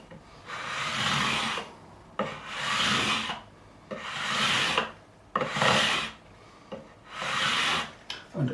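Guitar frets on a Fender Strat neck are sanded with worn 400 grit paper on a 9.5 inch radius block, six long rhythmic rasping strokes with brief gaps, close and steady, no voices.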